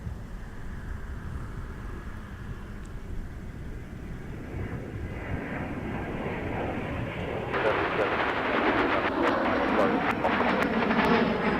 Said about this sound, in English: Next up, we're going to have a Royal Air Freight Dassault Falcon 20F going to Laredo.